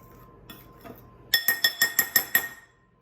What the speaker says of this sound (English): I'm gonna use this fork to kind of incorporate that all in there